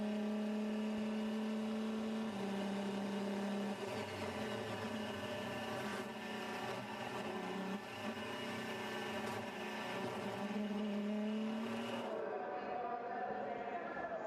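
Onboard the leading Le Mans 2012 race car through the Ford chicane, a steady engine drone shifting pitch through gear changes, heard quietly beneath a commentator's voice.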